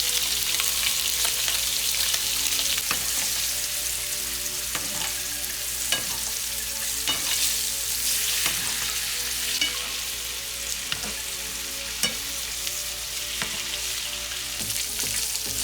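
Steak sizzles and spits steadily in a hot pan with butter and rosemary, a loud continuous frying hiss with scattered pops and crackles throughout.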